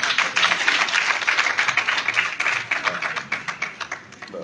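Audience applause for a speaker at a celebration of women leaders in Mali: a dense, steady clapping from many hands that thins toward the end, loud and close.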